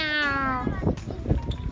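A person imitates a cat's meow with a single drawn-out, falling vocal cry, loud and close, followed by brief soft rustling and low bumps.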